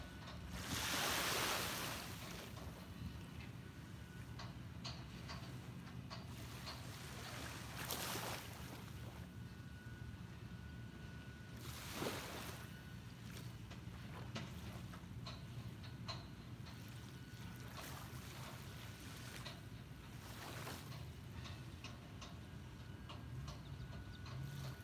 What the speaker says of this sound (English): soak in the sound of the waves